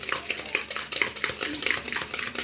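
Vanilla cake batter being worked with a scraper, close and steady, giving a run of soft repeated scraping and stirring strokes against the bowl in quick irregular rhythm.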